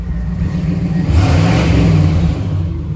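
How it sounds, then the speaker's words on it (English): A 1977 Pontiac Trans Am engine revs up close, its stock exhaust rising to a throaty roar in the middle before settling back to a loud steady drone. "Listen to the exhaust."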